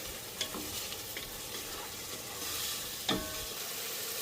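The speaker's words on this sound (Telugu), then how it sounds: "గ్రీన్ మసాలా, మసాలా ఆయిల్లో మంచిగా ఫ్రై అవ్వాలి." Green masala fries in hot oil, a soft, even sizzle with a few sharp stirring scrapes, close up and fairly quiet, with no speech.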